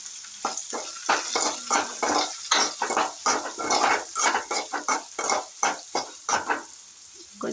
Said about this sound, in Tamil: வெங்காயம், பச்சை மிளகாய், கருவேப்பிலை போட்டுக்கலாம். நல்லா மிக்ஸ் பண்ணிக்கலாம்.